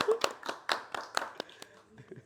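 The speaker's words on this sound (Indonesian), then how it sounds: "tepuk tangan dong." A small audience applauds with a run of roughly eight sharp, evenly spaced hand claps that thin out toward the end, close and fairly quiet, with a voice faintly underneath.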